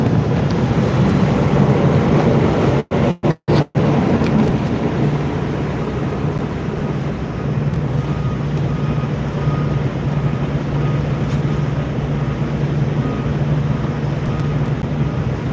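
A brand-new medical helicopter with its rear rotor running sits parked close by, its engine and blades making a steady loud broadband roar with a low hum that carries through the whole stretch.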